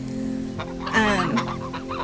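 Chickens clucking near a home vegetable garden with blueberry bushes and potato beds, a few close, distinct clucks and squawks over steady low outdoor background noise.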